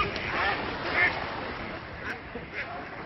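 Ducks quack and honk in loose, overlapping bursts while people talk over the calls at close range.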